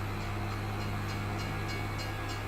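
A train rolling past in the farming game Farming Simulator 25, a steady low rumble with a strong droning hum and faint rhythmic clatter, continuous and moderately loud throughout.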